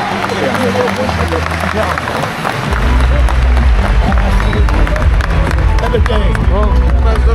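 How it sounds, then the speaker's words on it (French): Crowd clapping at a cattle show for Salers breeders, loud and dense applause that swells stronger partway through, mixed with crowd babble and a low rumble from the hall. "Vous pouvez les applaudir, plus fort, plus fort."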